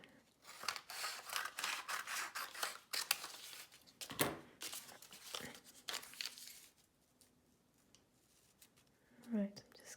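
Scissors snip through paper for an ink and collage artwork of markets. The cuts come as close, crisp bursts, with paper rustling and crinkling between them. A quieter stretch follows, and a voice is heard briefly at the end.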